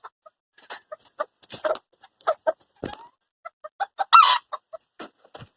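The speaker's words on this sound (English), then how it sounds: "here are two of my other Bantams" Bantam chickens cluck close by in a run of short, separate clucks and chirps, with a brief louder squawk partway through and no talking.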